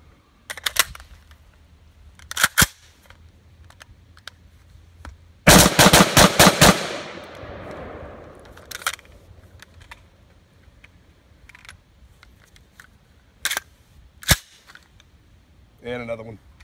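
Rifle shots from a Franklin Armory BFS3 binary trigger firing outdoors: sharp single cracks spaced apart, then a rapid string of quick paired shots, followed by more scattered loud reports with quiet gaps between.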